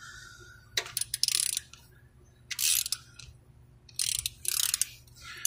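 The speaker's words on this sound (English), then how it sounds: "I'm going to turn the engine over." A Honda K24 Earth Dreams engine is turned over by hand during timing tensioner checks, producing a few short bursts of close metallic ratcheting and clicking separated by quiet pauses, with no talking.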